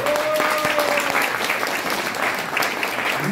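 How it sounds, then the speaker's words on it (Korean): Audience at a Korean political rally applauding, dense sustained clapping from a crowd with a few faint voices mixed in. "그 강을 넘읍시다. 박수 한번 주세요."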